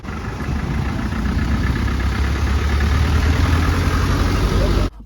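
A van engine idles steadily nearby as it arrives and waits, a continuous low rumble with a faint voice over it, cutting off abruptly near the end.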